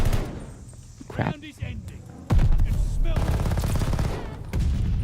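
A PPSh submachine gun fires in a video game: scattered shots come first, then sustained rapid bursts take over, close and loud, with a player talking over them.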